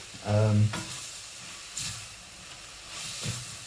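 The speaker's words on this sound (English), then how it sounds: "Now mushrooms, they cook again fairly quickly." Mushrooms sizzle in a pan for a chicken and black bean stir fry, with a soft frying hiss and a few brief stirring scrapes. A short voice-like burst rises at the start.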